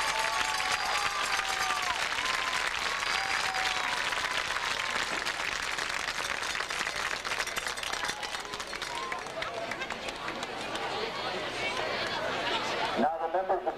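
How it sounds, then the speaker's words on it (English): Crowd applause and cheering from the stands at a high school football game for the varsity team, a sustained, fairly distant wash of clapping and crowd noise with voices mixed in. "How about a nice round of applause for them?"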